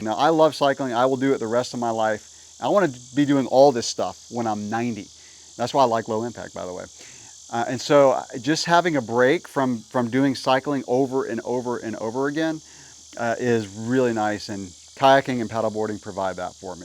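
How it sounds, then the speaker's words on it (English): Cicadas buzzing outdoors in summer, a steady high-pitched drone running continuously beneath someone talking close up throughout. "the cicadas are crazy right now, so sorry for the buzzing in the video."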